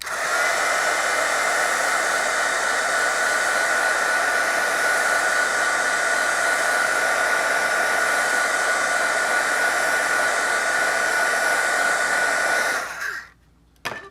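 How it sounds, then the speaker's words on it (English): A heat tool blows steadily across a watercolor painting to dry the paint, a loud continuous airy whoosh with a faint whine that runs without a break for about thirteen seconds before cutting off. "I'm going to go ahead and hit this with my heat tool just so I don't have any colors running"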